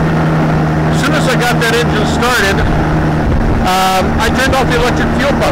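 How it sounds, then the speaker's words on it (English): A Challenger 2 ultralight airplane engine, freshly started after priming the carburetors, runs with a steady, continuous drone throughout while someone talks over it close by. "as soon as I got that engine started"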